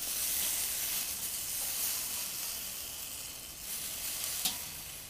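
Honey-glazed curry fishball skewers sizzle and hiss steadily as they grill over an open fire, a close, even crackle with a couple of sharper pops near the end and no voices.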